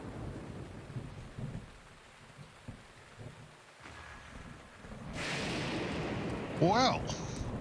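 Thunder rolls through a rainstorm with lightning in Zelda: Breath of the Wild, building from a steady patter of rain to a louder crash near the end, with some background game sounds.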